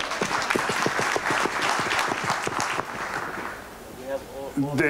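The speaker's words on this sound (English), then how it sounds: "big applause again from everyone to Ran and Gadi" An audience at a live interview event gives big applause, with loud, close individual claps standing out within the crowd for several seconds before it thins and a voice begins speaking.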